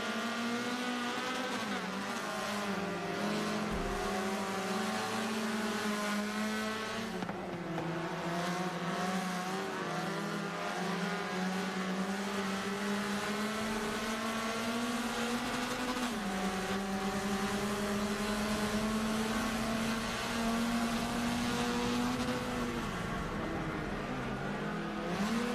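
Group C production race cars roar around a circuit, a steady loud engine drone rising and falling in pitch as cars hold the throttle and shift, continuous for the whole stretch with no talk.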